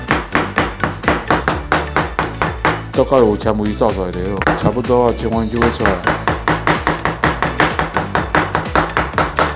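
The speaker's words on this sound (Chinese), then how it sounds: "再切丁，切细丁哈，等一下再用剁的" Diced chicken is minced with a cleaver on a board, giving loud, close, steady chopping thuds in a fast even rhythm throughout, while someone talks over part of it.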